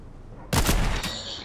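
A single loud sniper rifle shot in the Fortnite video game, a sharp crack followed by a short echoing tail, standing alone against quiet background.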